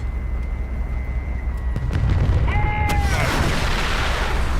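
Missile strikes in the Sons of Attila video game, with a broad rumbling boom building midway and sustaining loudly, overlaid by descending whistling tones as projectiles streak in.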